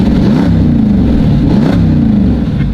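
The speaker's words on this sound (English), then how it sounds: "I'm gonna do some full throttle runs for you." A Jeep SRT8 makes full throttle runs with a loud exhaust, the engine revving hard in rising sweeps, close and dominant, two pulls in quick succession.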